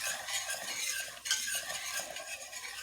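A spoon constantly stirs a roux in a hot pan, giving continuous scraping strokes over a gentle sizzle, close and even with a brief dip midway, with no talking.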